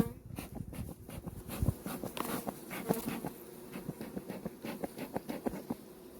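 Honeybees buzz softly around an opened Buckfast hive during an inspection, a low steady hum under repeated light taps and scraping of frames, with no talking.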